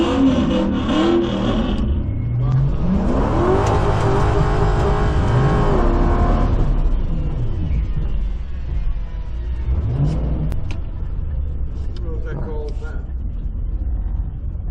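Drag race cars launching and roaring down the strip at Carolina Dragway during a street night, engines revving hard and shifting up through the gears, loud and then fading into the distance, with voices talking over the noise.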